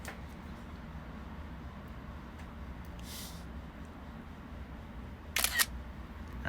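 An iPhone camera shutter firing while a photo is taken in the Parallax app, one short, bright click near the end over a low, steady room hum.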